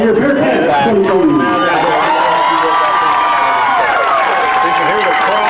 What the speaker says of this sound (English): can hear the crowd as they were happy with this one